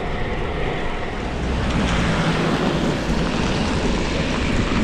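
Strong storm wind roars steadily and loudly around a cyclist on an open road, a dense, unbroken rushing with no voices.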